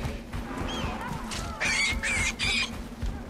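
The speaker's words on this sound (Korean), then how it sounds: "뭐 그쪽 새들 막 이상한 소리 내고 있어요" Birds let out odd honking, goose-like calls in Far Cry Primal, three loud bursts in quick succession after softer calls, set over a low steady game ambience.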